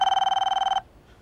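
A telephone bell rings in a rapid trilling burst under a second long, then cuts off abruptly into quiet room tone.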